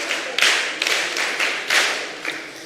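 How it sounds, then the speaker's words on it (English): An audience at a mentorship session claps for themselves, giving a short burst of group applause that swells and falls in several waves, fairly close, with no talking over it. "Clap for yourselves."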